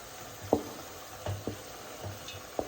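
Onions are added to frying meat in a pan for a Kazakh home-cooked dish, giving a low steady sizzle broken by several sharp clatters of stirring against the pan, with no talk.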